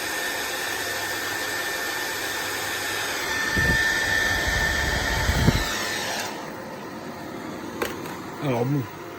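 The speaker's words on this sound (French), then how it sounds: "on va mettre le sèche-cheveux" A hair dryer running off a solar panel and battery power system whirs steadily at a constant pitch, joined by some louder mechanical thumps partway through, then cuts off near the end.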